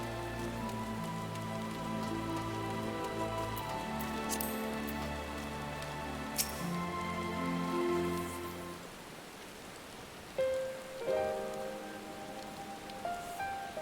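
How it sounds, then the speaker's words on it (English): Rain falls steadily in the video game Final Fantasy XIV, a soft constant patter beneath a sustained musical drone, with a few brighter droplet taps standing out near the end. "It's raining."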